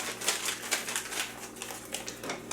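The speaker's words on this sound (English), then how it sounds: "I'm horrible at ripping open packets, so I use scissors so they don't end up going everywhere." Scissors snip open a paper taco seasoning packet, giving a close series of crisp, rapid clicking cuts and light crinkles that stay fairly even throughout.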